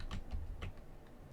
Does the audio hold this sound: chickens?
no